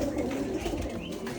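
Racing pigeons coo close by in soft, low, rolling murmurs lasting a moment, with faint background noise.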